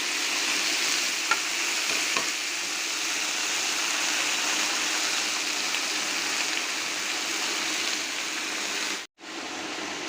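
Onion, green chili, dried red chili and potato fry in hot oil in a pan, giving a loud, steady, dense sizzle that holds throughout with a brief dropout near the end.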